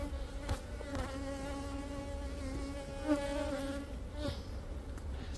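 Honeybees buzz steadily around beehives during a summer apiary check, a dense, continuous droning hum with a few louder individual bees passing close by.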